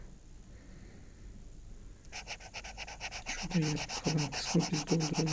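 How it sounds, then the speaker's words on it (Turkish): A stylus pen scratches on a tablet screen in rapid, repeated rubbing strokes that start partway through, while a voice talks over it. "Kalemin ekrandaki o sürtme sesi rahatsız edici olabilir diye düşünüyorum."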